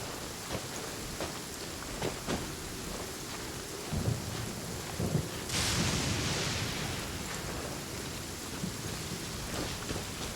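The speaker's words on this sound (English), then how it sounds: "If you're scared of lightning, hide now." A video game thunderstorm: steady heavy rain hisses throughout while thunder rumbles, swelling into a louder crack and roll about midway before settling back into the downpour.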